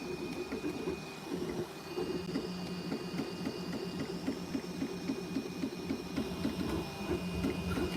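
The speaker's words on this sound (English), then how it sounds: "This is actually not the fastest printer, but it's not the slowest. This is like a mid-range printer." A mid-range bed-slinger 3D printer prints RC car parts for a vintage HPI RS4, its stepper motors buzzing and whirring in steady, rhythmic patterns close by, with a faint constant high tone running underneath and no talking.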